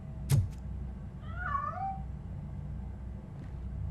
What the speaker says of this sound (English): This is the kitty.